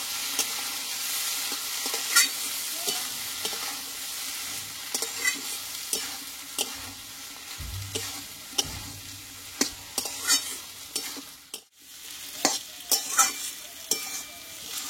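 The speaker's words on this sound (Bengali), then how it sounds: "আর দেবো এখানে 1/2 চামচ মতো গরম মশলার গুঁড়ো দিয়ে আমি আরো কিছুক্ষণ এইভাবে আমি নাড়াচাড়া করে নেব।" Fish oil curry with garam masala powder stirred in a pan, a steady soft sizzle broken by repeated scraping and clinking strokes of the spoon, close up and with no talking.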